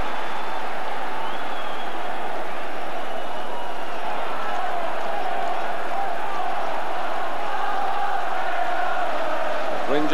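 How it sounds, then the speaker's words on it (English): A football stadium crowd at a 1994/1995 UEFA Champions League match between Glasgow Rangers and Borussia Dortmund cheers and roars in a sustained, distant wash that swells and holds throughout. "Well, the crowd are enjoying this now."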